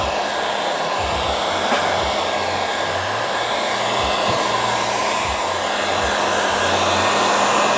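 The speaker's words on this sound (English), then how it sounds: "you can run a heat gun" A heat gun runs over hood stamp vinyl on a car hood, giving a steady, close, loud blowing whoosh with a low motor hum that holds constant throughout.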